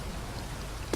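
Steady rain falling in Elder Scrolls Online, a dense, even hiss of drops with no pauses, moderately loud and alone.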